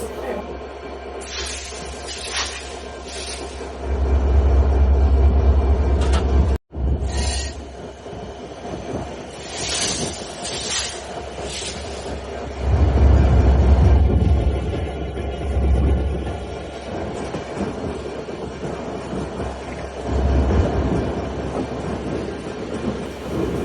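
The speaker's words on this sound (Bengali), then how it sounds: "ট্রেনটি এখনই ছেড়ে যাবে।" The Ruposhi Bangla Express intercity train departs and rumbles along the tracks toward Benapole with rhythmic clattering and swells of heavy low roar, while people talk intermittently nearby.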